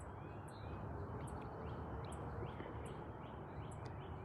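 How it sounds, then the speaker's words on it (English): Faint, repeated bird chirps ring out at steady intervals over a dense, continuous background hiss. "The birds are singing."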